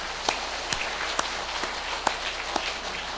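Church congregation applauding in thanks for members who served over the past year, a faint, steady wash of clapping with a few sharper individual claps standing out, no voices over it.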